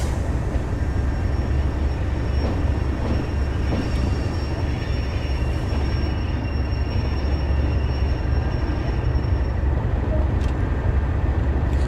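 Simulated Class 37 diesel locomotive hauling a coal train on the Tees Valley Line, a heavy constant low engine drone with rolling rumble, a faint high whine and occasional clanks, close and steady throughout.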